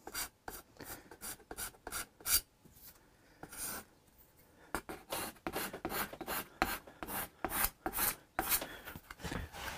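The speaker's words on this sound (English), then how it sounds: "Scrape the binding clean." Binding on a Hofner Galaxie guitar scraped clean by hand, rasping strokes in quick repeated bursts with a brief pause midway, close and fairly loud.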